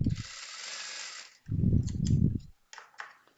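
Sewing machine stitching a petticoat, two bursts of rapid mechanical needle chatter separated by a pause, with a high whirring run and faint handling clicks, close and alone.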